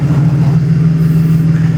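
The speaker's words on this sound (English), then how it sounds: "That 6-cylinder engine," A 3-litre six-cylinder car engine revs with a steady, loud, low grumble that holds evenly throughout, close by and with no voices.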